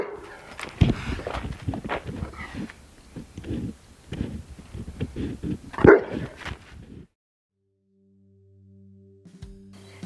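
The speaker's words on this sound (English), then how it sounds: "Even Crew's barking for you." A dog barks in short bursts for several seconds amid some movement noise, then everything drops to near silence.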